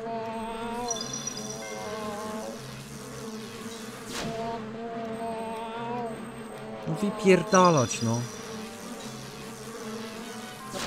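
Buzzing flies in a video game, a steady insect drone over game music and effects, with someone talking in Polish over it.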